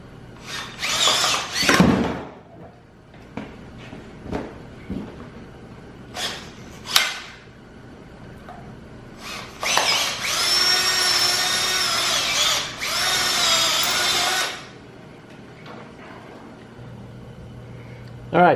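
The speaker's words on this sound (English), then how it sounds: "I just have to drill that little lip off" Power drill fitted with a 13/32 bit cutting a lip off a serpentine pulley bracket on a small-block Chevy in a Jeep CJ7, running in several loud whirring bursts separated by pauses and workshop clatter.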